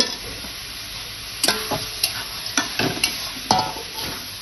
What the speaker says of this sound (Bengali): হালকা করে নাড়াচাড়া করে নিচ্ছি পুরো চাল আর ডাল মিক্স করে দিচ্ছি